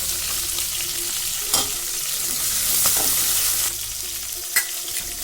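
Green chillies and garlic fry in hot oil for a tomato chutney, giving a steady, close sizzle broken by a couple of sharp stirring clinks.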